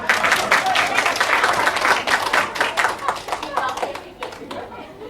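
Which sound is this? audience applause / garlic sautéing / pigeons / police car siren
audience applause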